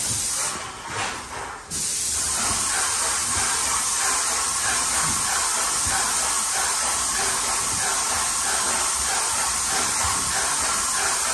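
An airless paint sprayer coats the ceilings and walls of a house, giving a loud, continuous close hiss that starts after a short sputtering burst and then runs steadily without a break, no voices.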